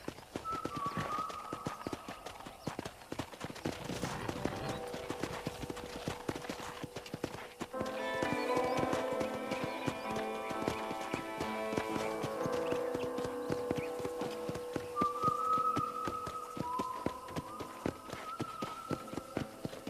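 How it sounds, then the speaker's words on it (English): Steady clip-clop of horse hooves at a trotting rhythm in the video game Red Dead Redemption, moderately close, with light background music and a faint voice now and then. "let's see if you can still ride a horse"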